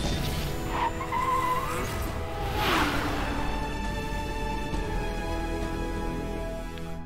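In the mobile game PUBG Mobile, a Lamborghini drives with a steady engine drone, and a tire squeal rises through the middle over continuous road noise.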